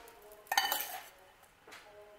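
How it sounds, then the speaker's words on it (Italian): Small tofu pieces dropped into a pot make a sudden clattering splash with a faint sizzle, followed by a lighter second clink a moment later, close and fairly loud in a quiet kitchen. "E poi vado ad aggiungere i pezzettini di tofu."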